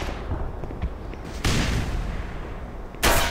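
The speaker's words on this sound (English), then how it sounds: "Oh, grenade." A grenade blasts in the Black Mesa: Xen shooter game, a sudden loud burst over a rumbling background of gunfire, followed by a second sharp blast near the end.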